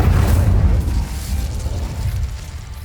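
Casting the Incendio fire spell in Hogwarts Legacy produces a loud, deep whooshing burst of flame that rumbles and slowly fades over a few seconds.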